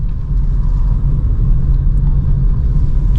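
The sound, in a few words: car driving in second gear through a market area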